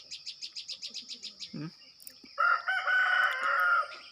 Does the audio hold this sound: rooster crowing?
yes